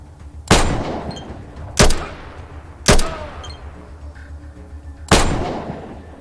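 Four sharp, loud pistol gunshots ring out at uneven intervals in the post-apocalyptic game ATOM RPG, each shot trailing off in a brief echoing decay with faint metallic clinks in between.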